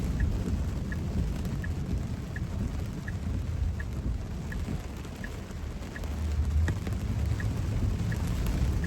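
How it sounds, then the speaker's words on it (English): Rain drums steadily on a moving car during a drive in a 2025 Tesla running Full Self-Driving 13.2.9, heard from inside as a dense, even wash under low road rumble with faint periodic chimes. "And again, some rain"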